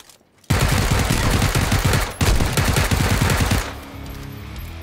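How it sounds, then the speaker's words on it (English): Rapid automatic gunfire in PUBG rattles out in two long, loud bursts, nearly continuous, with a short gap between them and quieter ambience after. "Had to shoot above the bars to get him."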